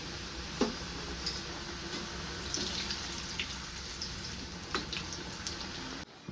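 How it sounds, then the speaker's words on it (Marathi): Wheat-flour kapnya deep-fry in oil, giving a steady bubbling hiss with scattered pops and clinks of utensils, fairly close and even until a sudden stop near the end. "छान अशा लाल भुडक अशा मी तळून घेतले त्या"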